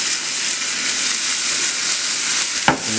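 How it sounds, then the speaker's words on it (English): Red link sausage frying in a pan over medium-low heat, a loud, even hiss and crackle of hot fat held throughout, with a brief sharper scrape or clatter near the end. "we're going to take our sausage. We're going to put that in there first."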